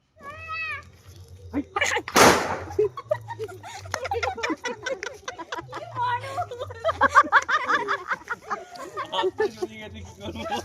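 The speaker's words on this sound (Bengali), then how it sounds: "ফানস ওড়ানোর পর কিছু লঙ্কা ভটকা ছিল, সেইগুলোকে আমরা ফুটিয়ে আনন্দ উপভোগ করি" A single sharp Diwali chilli cracker bangs once, loud and close, amid a crowd of chattering voices and children's talk that continue around it.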